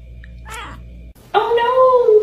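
A cat gives a short, faint meow and then a louder, drawn-out meow close by, with a voice speaking briefly between the two.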